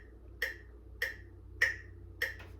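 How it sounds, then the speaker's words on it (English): A metronome set to 100 beats per minute ticks four times, evenly spaced, crisp and close in a quiet room. "a metronome is a device which helps us keep time as musicians"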